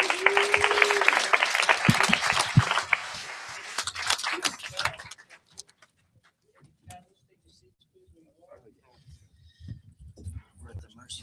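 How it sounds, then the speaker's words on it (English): An audience at a gathering of hashers in Las Vegas claps briskly for about five seconds, with voices mixed in, before the applause stops abruptly and only sparse murmurs and small noises remain. "Give yourselves a round of applause."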